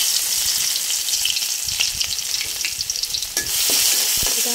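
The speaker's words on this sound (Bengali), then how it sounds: "আমি দিয়ে দিব ছেঁচিয়ে রাখা রসুন।" Crushed garlic frying in hot oil with whole cumin seeds, a bright, steady close sizzle with crackles and stirring noises, loud and continuous without talk.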